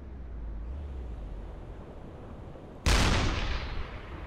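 Deck gun on a U-boat in the submarine game UBOAT fires once, a single loud booming blast that decays slowly over steady engine and choppy-sea rumble.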